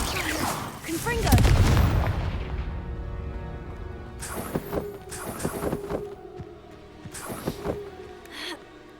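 Confringo spell explosions in a Hogwarts video game: a heavy booming blast up front, then several sharper bursts and crackles, with game music and a faint voice underneath.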